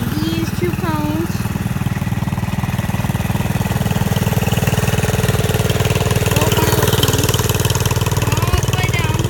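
A 1972 John Deere 110 garden tractor engine idles with a steady, rapid, mid-pitched throb, loud and close, as a person talks over it outdoors before a tractor race.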